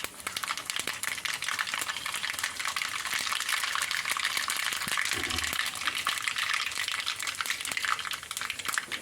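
Dense, steady crackling and sizzling of mustard seeds popping in hot oil, close and continuous, with a brief low thud partway through.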